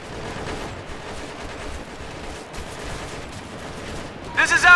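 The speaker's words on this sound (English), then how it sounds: "We're taking heavy fire!" Heavy gunfire in the military shooter Operation Flashpoint: Red River, a steady rattle of rapid shots running throughout at mid distance, with a louder burst near the end and some voices mixed in.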